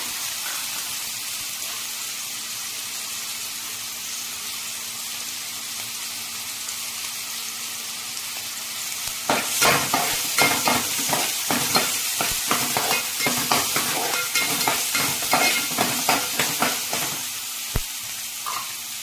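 Tomatoes fry in a hot pan for a soybean masala, with a steady sizzle that grows busier when stirring begins, bringing repeated close scraping and clattering strokes over the hiss.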